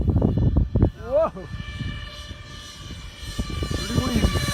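RC SR-71 Blackbird model jet flying on a windy day, a faint distant engine whine drifting behind people talking and wind noise, with a rising tonal sweep briefly audible.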